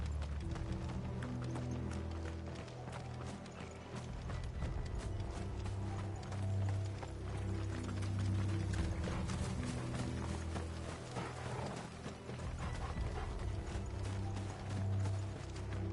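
Horses clip-clop in the video game Final Fantasy XVI, a steady patter of hooves mixed with mechanical rattling and a low rumbling bed, continuous and moderately loud.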